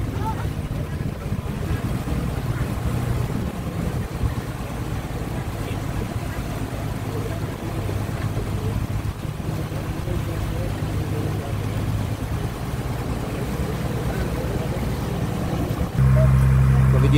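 A boat packed full of people and cargo drones steadily on a roughly two-hour trip to Isla Verde, with a constant low engine rumble and wind buffeting throughout, and the engine growing louder near the end.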